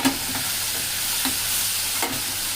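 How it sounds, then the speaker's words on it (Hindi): Garlic frying in a pan for a jackfruit sabzi, a steady close sizzle with a few soft stirring scrapes and no voices. "हमारा लहसुन अच्छे से भून गया है"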